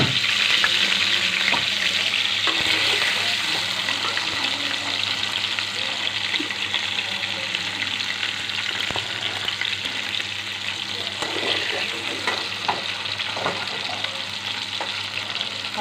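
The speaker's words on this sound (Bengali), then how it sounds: "তো আলুগুলো আমি নিয়ে এসেছি, আলুগুলোকে ভেজে নিচ্ছি।" Cut potatoes fry in hot oil in a wok with a continuous, fairly loud sizzle, broken by occasional clinks and scrapes of stirring, with no talking.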